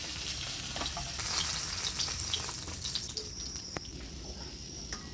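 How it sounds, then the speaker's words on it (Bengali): River fish, caught in a net, sizzle and crackle steadily as they fry crisp in hot oil, with occasional sharp pops over a continuous hiss and no talking. "মাছ জালের মাছ একটু কড়া করে ভেজে নিলাম"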